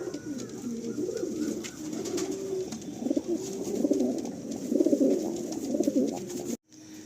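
Malwai, Madrasi and Andhra breed pigeons in a loft coo repeatedly in soft, overlapping rolling calls that carry on steadily at close range, with no talk, before cutting off abruptly near the end.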